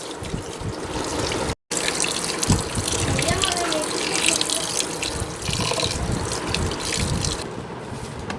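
Raw chicken being washed under a running kitchen tap, a loud continuous gush of water splashing into a sink with brief drips and a momentary cutoff, a voice faintly present beneath.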